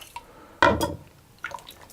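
Wet ingredients for raspberry muffins poured into a mixing bowl, a short splashing pour with a clink against the bowl, then a second, smaller splash, close and alone.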